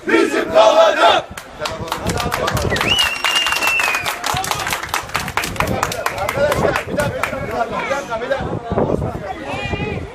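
Kahramanmaraşspor football supporters chant and cheer loudly during an outdoor march, crowd voices rising in rhythmic shouts with scattered claps and whistles, sustained throughout under continuous shouting.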